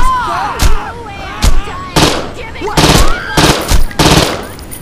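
Submachine gun fire in the open-world game Saints Row 2 rips out in about seven loud, close bursts at irregular intervals, with whining ricochet-like tones sounding between the volleys.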